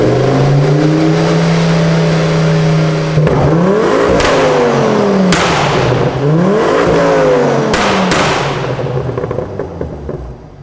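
A Ford Focus ST mk2 with a block mod revs hard and loud, close by, through several sharp rising and falling sweeps with crackling bangs on the overrun, settling toward the end.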